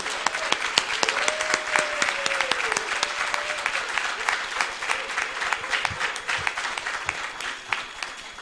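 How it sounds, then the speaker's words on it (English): Sustained applause from a school audience honoring spelling bee winners, dense steady clapping with a few cheers, filling the room at even loudness throughout. "giving a big round of applause to all of our school-wide spelling winners"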